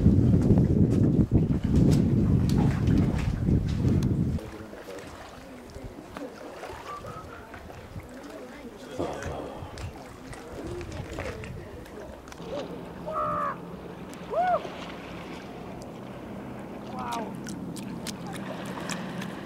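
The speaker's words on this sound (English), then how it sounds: "kayaking on the glacial lake" A kayak paddles across a glacial lake in Jasper Park, Alberta, with splashy strokes loudest at first, then softer lapping under scattered bird calls.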